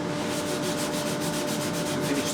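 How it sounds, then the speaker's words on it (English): Fine sandpaper on a cork sanding block rubs over glued guitar bindings in quick back-and-forth strokes, a close, even, rhythmic scratching with no voices. "Finally, some fine sandpaper on a cork sanding block to"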